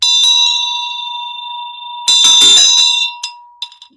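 A ritual bell used in Tantric Buddhist practice rings out clear and loud with a long sustained shimmering tone, then is struck again for a brighter second ring that decays in a few softer taps, with no talking.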